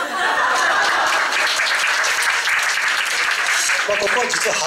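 Audience applause at a Shinto lecture, steady dense clapping at close range that holds at an even level from start to finish, with a hint of light laughter mixed in.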